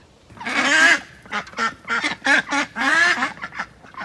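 Three newly added ducks quack loudly in a backyard duck coop, giving a run of close, harsh, repeated quacks in quick bursts with short gaps, and nobody talks over them.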